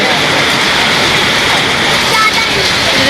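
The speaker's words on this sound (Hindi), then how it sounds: "इतनी ज़्यादा बारिश हो रही है ना" Very heavy rain pouring down in a steady, loud broadband roar, like water from a bucket, continuous throughout with no break.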